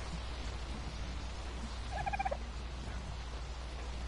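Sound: bird calling in a video game

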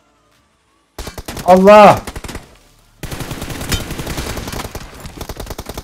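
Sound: gunfire in a video game

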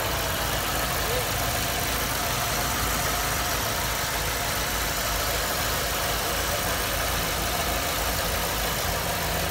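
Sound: car engine idling smoothly

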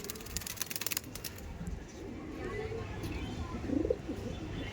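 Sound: Madrasi pigeons cooing

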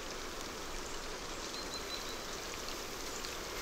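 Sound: rain in the Serengeti

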